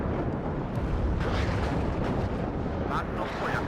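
Artillery barrages rumble in the WARNO war game, a dense, sustained roll of deep explosions with a few sharper bursts, while a voice speaks over the bombardment.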